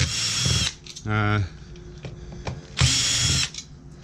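Power driver spinning Torx screws out of a remote radio unit during a teardown, three short whirring bursts close to the listener, one with a stuttering ratchet-like rhythm, separated by brief pauses with light clicks.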